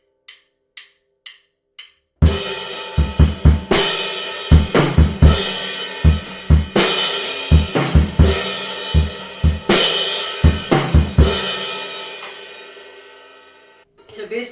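After a few count-in clicks, a drum kit plays a rock fill, with a rapid series of loud, punchy tom and snare hits over ringing cymbals that gradually fade out.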